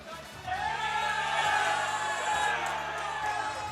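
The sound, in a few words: crowd cheering at esports event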